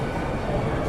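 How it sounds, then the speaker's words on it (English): Loud, steady rumble of a Hong Kong train in motion, a dense broadband roar heard from on board with no voices. "So now we're just gonna take a train over to, I believe it's Central, in order to go get some dinner."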